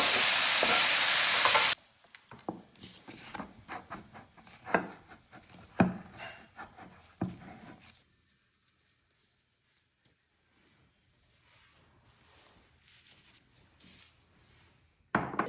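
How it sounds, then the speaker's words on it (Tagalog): Coriander leaves are stirred into a mixture in a pan, with a run of scraping and clattering utensil strokes that are loud at first, then fade to near silence before a brief return. "I-mix ko siya at ito-turn ko na yung ating"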